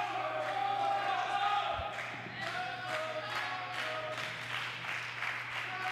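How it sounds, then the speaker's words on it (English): A live wrestling crowd at a CHARGED event cheers for Chango Bronson, a steady roar with rhythmic clapping and rising shouts, heard under a commentator talking. "Crowd getting behind Chango Bronson."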